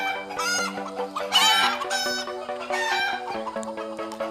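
Fayoumi parent-stock chickens on a Sylhet poultry farm cluck steadily and loudly in a dense, overlapping chorus, with a rooster crowing through it.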